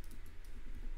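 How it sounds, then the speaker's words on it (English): Light, quick keystrokes tapping on a computer keyboard at a desk, a few soft clicks in a steady run against quiet room hum. "open up the terminal down here and type in pip install"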